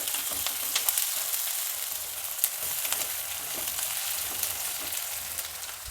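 Dried red chilies frying in hot oil while tempering for vangibath made with flattened rice: a steady, close, crackling sizzle with small pops, continuous and alone with no voices.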